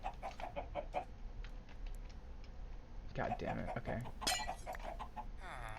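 Chickens clucking inside a chicken coop in a video game, short bursts of fowl calls under a live streamer's talk, busier and louder in the second half.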